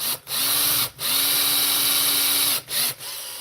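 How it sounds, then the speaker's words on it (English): A power drill bores mounting holes in wooden pieces, running in two long whining bursts with brief pauses between, loud and close with no talk. "I forgot to drill my mounting holes"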